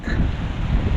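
Wind buffets the microphone on a small boat heading into it, a loud, rumbling low roar with a faint wash of water behind it, brief and without speech.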